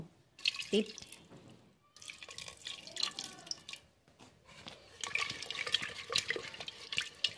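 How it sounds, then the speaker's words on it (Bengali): Water, lightly scented with a drop of sweet attar, poured onto potatoes for boiling, a quiet splashing and trickling in short bursts with brief pauses between, faint and close. "এবার এই পানিটাকে আলুর মধ্যে দিয়ে দেব"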